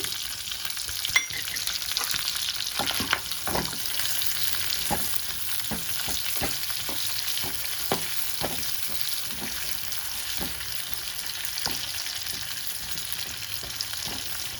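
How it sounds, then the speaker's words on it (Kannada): Chopped onions fry in hot oil in a pan for kaju paneer butter masala, with a steady close sizzle and frequent scraping stirs throughout, no voices. "ನೋಡಿ ಎಲ್ಲ ಈರುಳ್ಳಿ ಬಿಟ್ಕೊಳ್ತಿದೆ ಹಾಗೆ ಹಾಕಬೇಕು ಚೆನ್ನಾಗಿ ರೋಸ್ಟ್ ಮಾಡೋಣ"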